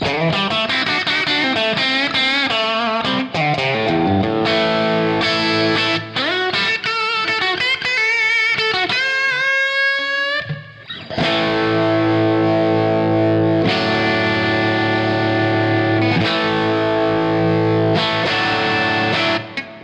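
An electric guitar through a Wizard Crunch compressor pedal plays loud, sustained, crunchy chords and runs of single notes, with only a brief gap partway through.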